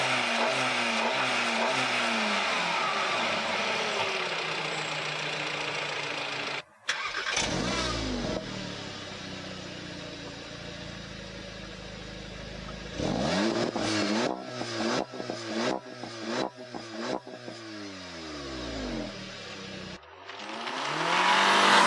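A Seat Leon Cupra 280 with a 2.0 TSI engine idles with a deep rumble, then revs hard in a series of sharp, rising bursts, loud and close, with no talking.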